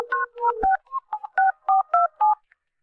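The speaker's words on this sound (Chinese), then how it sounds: "随后，我拿出手机，拨通了陆野的电话" A mobile phone dialing a number, a rapid run of about ten short, clean DTMF keypad tones with brief gaps between them, loud and close with nothing else audible.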